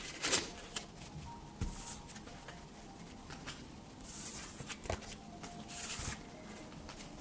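Deck of oracle cards shuffled by hand in a card-reading session, giving a soft papery riffle and rustle with a few sharp card snaps and slaps, close and unaccompanied by talk.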